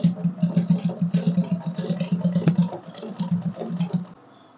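A sewing machine stitching a one-strap ball gown runs in a rapid, even chatter of needle strokes for about four seconds, then stops abruptly, close and clear with no talk.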